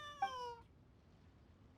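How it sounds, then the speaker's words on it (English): A cat in the video game Genshin Impact gives a single short, bright meow that fades out quickly, followed by near silence and a faint click at the end. "Why is there a cat there? Hello, cat."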